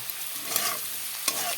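Potatoes frying in a pan while curry for katla fish is being cooked, a steady soft sizzle with a couple of brief stirring scrapes, close and fairly quiet with no talking.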